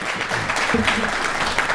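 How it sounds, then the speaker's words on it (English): A room of attendees claps for panelists at a small business lecture, a dense even wash of applause with a faint voice briefly underneath. "give an even heartier round of applause for our panelists"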